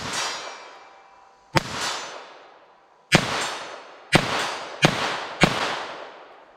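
.22 Long Rifle gunshots, Winchester Super-X Hypervelocity rounds: five sharp, loud cracks at irregular spacing, each followed by a ringing decay, with a faint earlier tail at the start.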